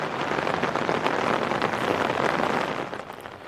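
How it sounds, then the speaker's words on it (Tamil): Heavy rain pours onto a city street in Chennai, a dense, steady hiss that stays loud and even throughout before easing slightly near the end, with no voices. "தற்போது மீண்டும் கனமழை என்பது தொடங்கப்பட்டிருப்பதும் குறிப்பிடத்தக்கது"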